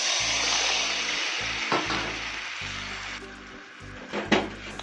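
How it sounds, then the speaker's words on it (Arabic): Tomato juice poured onto golden fried onions in a hot pan, sizzling and bubbling steadily with a broad hiss, interrupted by a few sharper splashes and stirring clatters. "هنزل بنص كيلو من عصير الطماطم"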